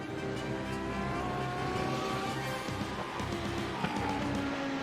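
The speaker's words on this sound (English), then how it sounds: "So far, you got all but 5 cars out there on the racetrack for the time being." Lamborghini Super Trofeo race cars circulate on the Autodromo Jose Carlos Pace track. Their engines make a dense, layered roar with pitch shifting as cars pass, steady and loud throughout.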